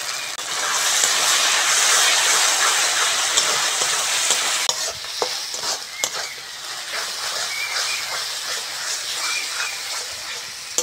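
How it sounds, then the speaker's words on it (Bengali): Spice paste (masala) for a rohu fish curry fries and gets stirred in a pan: a loud, steady sizzle that softens after a few seconds into gentler frying, broken by scraping stirs and spoon clicks. "মশলাটা ভালো করে কষে নিয়েছি"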